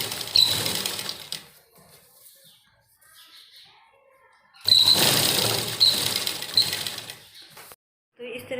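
Sewing machine stitching the sleeves onto a nightie in two bursts of rapid mechanical whirring and clatter, separated by a quieter pause, close by.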